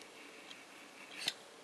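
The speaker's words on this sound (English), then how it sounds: "I'm going to lay it down here on this rectangle, and then I'm going to cut right around there like this" Scissors cut quilting fabric around a curved template piece for a Drunkard's Path block: one faint snip, then a sharper, louder cut near the end, close up and quiet with no talking.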